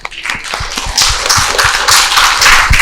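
An audience at a school-supplies donation event applauds a guest, many overlapping hand claps building from scattered taps into sustained, loud applause close by.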